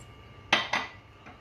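A utensil stirs sauce for buffalo wings in a pan, making two quick metallic clinks in close succession and then a faint third tap, nearby and otherwise quiet.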